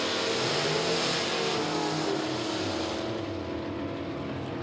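A small block powered Plymouth Valiant drag car roars at full throttle down a drag strip, a loud, steady broadband engine blast that holds throughout without pause.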